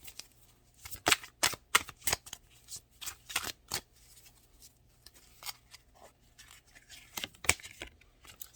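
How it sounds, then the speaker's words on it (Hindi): A deck of tarot cards being shuffled by hand in a series of crisp riffling bursts, close and fairly quiet, with short pauses between passes. "और फिर शफल करें।"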